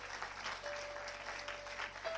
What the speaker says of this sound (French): Est-ce qu'on peut applaudir pour la sœur Peggy?